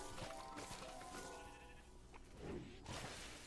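Sheep bleat in the video game Minecraft Dungeons, a wavering nasal baa heard amid dense game sounds and effects, faint overall and without speech.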